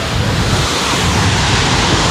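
Water from El Chiflon waterfall in Chiapas, Mexico, spraying all around: a loud, steady, broadband roar of rushing and splashing water close to the microphone, with no break.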